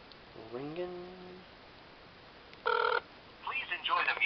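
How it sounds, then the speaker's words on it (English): Telephone ringing during an outgoing call, heard as a single short burst of ring tone midway through, with voices talking before and after it. "Ringing."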